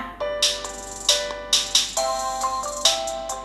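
Bright, tinkling melodic notes played at full volume through the speakers of a Teclast T40 Plus tablet, a short repeating tune with sharp note attacks and a thin, tinny tone.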